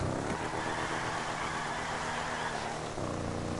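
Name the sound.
Albany Virgo car engine in GTA Online video game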